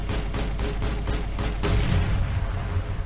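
Gunfire in a video game rings out in a rapid series of sharp, evenly spaced shots, loud and with no voices over it.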